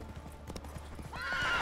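A horse in The Witcher 3 gallops uphill, its rhythmic hoofbeats steady and close before a whinny rises at the end.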